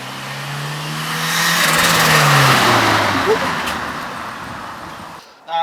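A turbocharged Nissan S12 Silvia with a CA20E engine revs up and accelerates loudly, its pitch rising then easing off, with road noise and a brief cut near the end.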